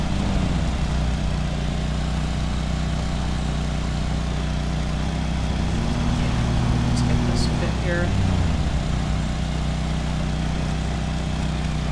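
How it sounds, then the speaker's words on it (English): Lawnmower engine in the Lawn Mowing Simulator video game droning steadily at a constant mid-pitched idle throughout, with someone talking briefly over it. "so you can actually hear me over the sound of the lawnmower"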